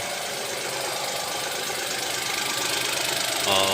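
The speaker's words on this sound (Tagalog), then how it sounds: "Vibrate ang ating engine." A Geely Coolray 1.5 turbo engine runs close by with a steady, rattling hum and a faint knocking vibration, continuous and fairly loud throughout the short stretch.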